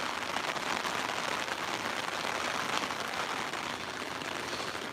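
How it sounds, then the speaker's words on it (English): Heavy rain pours down in a sudden New York City storm, a dense, steady hiss of drops hammering surfaces without letup, moderately loud and even throughout. "Now it's really pouring."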